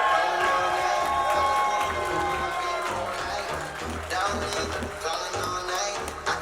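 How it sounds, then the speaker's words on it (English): An audience at a retirement party breaks into applause and cheering, a dense, loud wash of clapping and voices that eases slightly toward the end, with people talking within it. "Ladies and gentlemen, put your hands together for Dr. Ervin Clowers."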